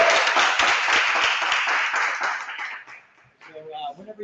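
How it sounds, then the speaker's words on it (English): An audience at a seniors' final presentation breaks into lively clapping for a student about to perform a monologue, the claps fading out before a voice speaks. "So we're gonna let's give Oliver a round of applause."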